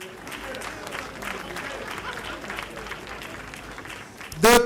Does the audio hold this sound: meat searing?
no